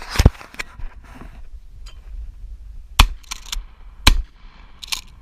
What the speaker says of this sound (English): we out here shooting some clays